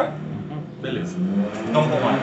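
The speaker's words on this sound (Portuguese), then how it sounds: "Desculpa o barulho do carro aí." A car passing by outside, rising and falling engine rumble growing louder toward the end, heard under someone speaking indoors close by.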